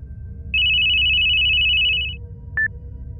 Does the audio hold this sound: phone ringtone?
yes